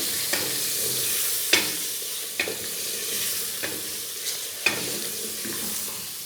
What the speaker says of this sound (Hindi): गोश्त को तकरीबन 2 मिनट तक हम हल्दी के उसमें भूनेंगे।